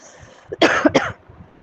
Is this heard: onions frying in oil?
no